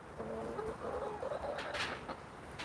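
Backyard chickens released from their coop into an outdoor run in spring, with soft clucks and coos trickling along over steady outdoor ambience, fairly close.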